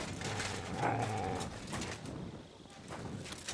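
A dog growls in the video game Kingdom Come: Deliverance 2, a low rumbling snarl held for a few seconds at close range, mixed with background game sounds and no talk over it.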